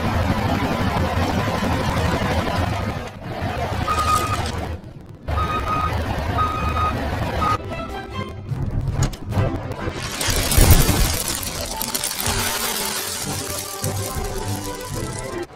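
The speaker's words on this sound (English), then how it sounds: "That's a dump truck!" A dump truck's heavy engine rumbles at a construction site while a run of evenly spaced, high reversing beeps sounds, then the engine grows rougher and louder with clattering machinery noise.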